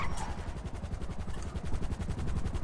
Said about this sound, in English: I'm hearing a helicopter.